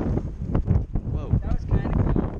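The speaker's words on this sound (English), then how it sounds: "Except there's wind." Wind blows outdoors during a water gun fight, a steady low buffeting rush that persists through the clip with voices talking over it.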